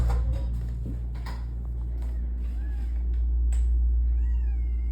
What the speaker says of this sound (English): I gotta find this fucking cat right quick.